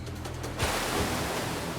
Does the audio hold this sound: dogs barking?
no